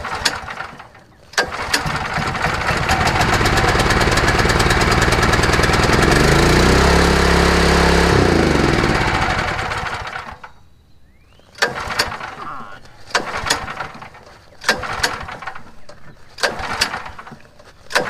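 A rented soil preparator machine's small petrol engine with a faulty carburetor starts and roars loudly for several seconds, then dies away, followed by a series of sharp clanks and knocks.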